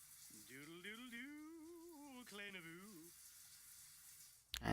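A shower runs with a steady soft hiss of water inside a video game house while a character's voice sings a wavering melody over it, then a brief louder burst at the end.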